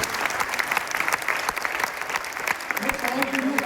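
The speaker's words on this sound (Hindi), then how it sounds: "एक बार मैं हमारे इन नए दोस्तों के लिए एक बार जोरदार ताली बजाइए" Audience at a meeting or seminar breaks into loud, sustained applause, steady clapping throughout with a few voices rising near the end.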